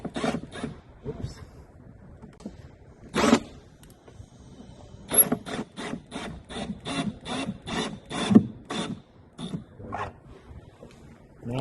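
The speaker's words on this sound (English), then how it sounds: "Now it's just a matter of finishing off the last screws." The last screws go in during a desk assembly: a series of short, sharp ratcheting or driving bursts, some quick in a row and some spaced apart, heard close with quiet gaps between them.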